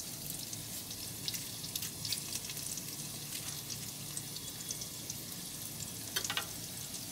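Green chilies and quartered tomato pieces sizzle in a hot pan, a steady bright frying hiss with scattered crackles and pops, close and continuous.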